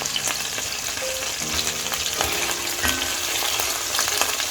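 Browned lamb pieces sizzle and spit in a hot pan after being flipped, a steady close frying hiss with occasional brief tonal clinks underneath.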